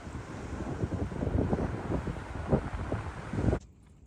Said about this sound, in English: It's really windy up here today.